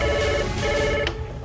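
A telephone rings at a CRPF helpline in the Kashmir valley, a steady electronic ringtone with layered tones over a dense background, ending abruptly after about a second.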